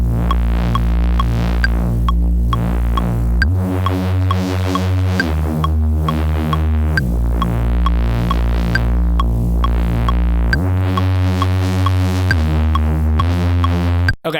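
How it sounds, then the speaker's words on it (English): A Reese-style synth bassline with its filter cutoff swept by an LFO plays loud and alone, a throbbing, detuned low drone that changes pitch every few seconds over a repeating pattern, with light percussive ticks above. "this is going to be our bass line"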